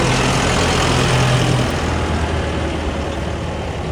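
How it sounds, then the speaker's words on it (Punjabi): A tractor engine runs steadily close by, a loud, continuous low diesel drone with no pauses or voices over it. "ਟਰੈਕਟਰ ਵਧੀਆ ਚੱਲੀ ਜਾਂਦਾ"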